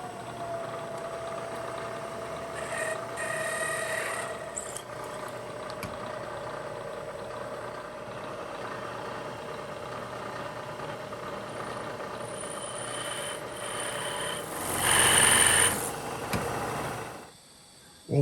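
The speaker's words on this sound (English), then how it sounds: "center drill with a 1/2-inch drill, and use a 1-inch end mill." A milling machine drills a hole with a 1/2-inch drill and then end mills it with a 1-inch end mill, giving a steady mechanical hum throughout with a louder, harsher cutting burst near the end.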